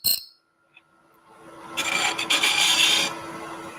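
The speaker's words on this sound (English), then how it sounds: "Still doing a shearing cut" A parting tool takes a shearing cut on a wood lathe, turning a thin top spindle. A short tap comes first, then a close, steady raspy hiss of the cut that lasts about two seconds.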